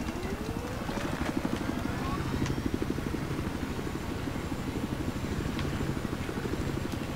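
Military helicopter in the shooter game Battlefield 4 thumps with a steady, fast rotor chop over a dense engine roar, continuous and fairly loud with faint scattered game sounds.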